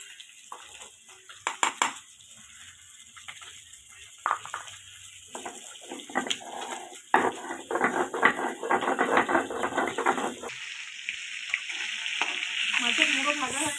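A fish head frying in hot oil in a home kitchen, with a crackling sizzle under irregular scraping and clattering of a spatula against the pan, heard up close and growing busier toward the end.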